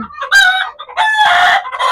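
A tall black pahari hill rooster with a crest, about eight and a half months old, crows once loudly and close by in a broken, strained call.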